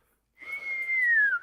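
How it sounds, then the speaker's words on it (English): A person whistles a single sustained clear tone for about a second, steady then gliding slightly downward at the end, loud and close, starting after a brief silence with no speech. "that whistle? That's amazing."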